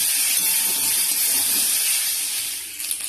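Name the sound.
prawns frying in a pan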